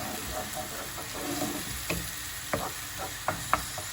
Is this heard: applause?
no